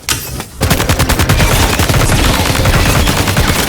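Rapid rifle gunfire and grenade blasts from the video game Death Stranding, a dense, loud, continuous volley of shots after a short pause at the start, with no talk.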